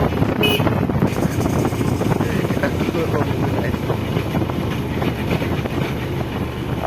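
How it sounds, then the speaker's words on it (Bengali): A TVS Stryker 125 motorcycle running low on fuel, its engine jerking and sputtering as it rides, a loud steady rumble mixed with wind noise close to the rider. "আপনারা শুনতে পাচ্ছেন বাইকের ধাক্কা দেওয়ার।"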